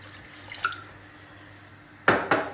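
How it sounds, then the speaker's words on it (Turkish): Cold water poured into a pot of roasted tomato soup: a short splashing pour near the end, two quick bursts after a quiet stretch with faint drips. "İçine soğuk su ilave ediyorum şu an."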